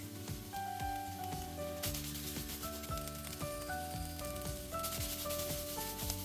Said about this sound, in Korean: 팬에 기름을 두르고 파 먼저 볶다가 파기름을 낸 후 물미역을 넣어주고 마늘 1스푼을 넣어줍니다.